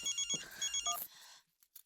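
A telephone rings in a domestic sitcom scene: two electronic bursts of trilling ring tone, moderately close, then a pause and silence with a faint click.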